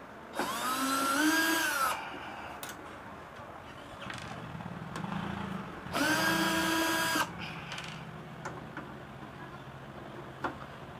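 A power drill backs screws out of an audio mixer in two whirring bursts, each winding up and down in pitch, separated by quieter handling and clicks at close range.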